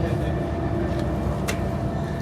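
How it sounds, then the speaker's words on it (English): Inside a moving Virgin train, a steady low rumble of the carriage rolling along the rails fills the space, broken by a couple of brief sharp clicks. "And we're on the train. We're on Virgin trains."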